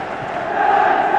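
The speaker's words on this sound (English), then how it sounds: "Listen to the crowd." Stadium crowd at a 1979 FA Cup match between Liverpool and Manchester United, a dense continuous roar of massed voices that swells slightly toward the end, with no break or single voice standing out.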